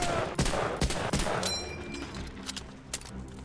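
Gunfire in a war video game, several sharp bursts of shots in quick succession, then scattered, fainter pops and distant firing against a busy background.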